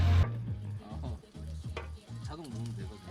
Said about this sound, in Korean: 지글지글 소리들.